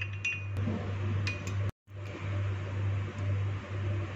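A spoon clinks and scrapes in a bowl while yogurt is mixed with red food colouring for a chicken tikka marinade, light taps over a low steady hum, with a brief dropout midway.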